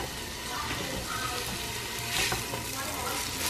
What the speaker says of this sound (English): we're browning the onion and the garlic